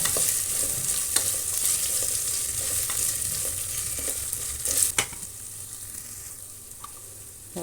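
Moong dal dry-roasting in a pan for millet pongal, a steady close sizzle with scraping stirs and occasional sharp ladle taps against the pan, no voices.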